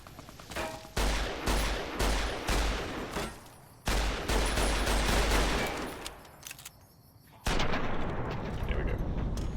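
Heavy gunfire in Fallout: New Vegas booms in loud repeated shots and clustered volleys, close and punchy, each crack followed by short rumbling decay, with a brief lull before firing resumes.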